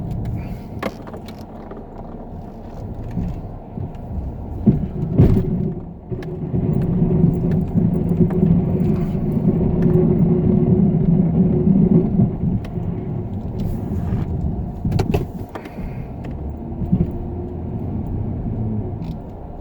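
Snow plow truck reversing slowly out into the street at a small site, a steady low engine rumble that swells in the middle and holds, with a few clanks and knocks on top and no talk.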